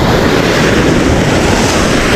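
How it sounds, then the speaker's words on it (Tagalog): Strong ocean waves surge against a rocky fishing spot, a loud, constant roar of churning surf mixed with heavy wind buffeting the microphone. "Grabing alon dito mga master."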